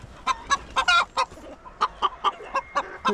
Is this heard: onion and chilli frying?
no